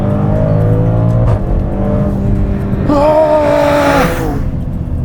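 A 2023 Maserati Grecale Trofeo SUV driven hard, its engine droning loud and steady throughout, with rising rev tones near the end as it accelerates; no speech.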